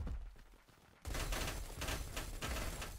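Gunfire in a video game erupts after a second of quiet ambience, a loud, sustained stream of rapid shots with a heavy low rumble and a few stronger cracks punctuating the barrage.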